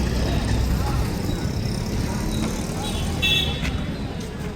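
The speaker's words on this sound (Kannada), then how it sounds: "ಸಿರ್ಸಿ ಕೇಂದ್ರ ಬಸ್ ನಿಲ್ದಾಣ ಹೊಸ ಬಸ್ ಸ್ಟ್ಯಾಂಡ್ ಇದು" Sirsi central bus stand at night: a constant close rumble of buses and road traffic, with a short horn toot rising above the din near the end.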